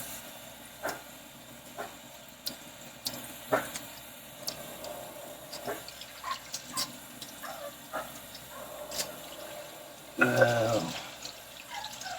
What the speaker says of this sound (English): Get my hand washed up again.